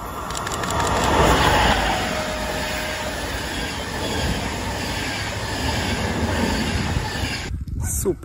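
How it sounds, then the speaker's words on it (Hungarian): A train passes close by with a continuous loud rumble of wheels and rails and a brief squeal, ending abruptly with a loud click near the end. "Nézzük is, nem sokára jön a vonatunk."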